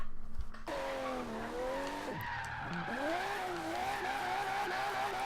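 An Aston Martin One-77 in Forza Horizon 3 drifts with a sustained, wavering tire squeal over a loud engine drone, pitch bending up and down as the slide continues.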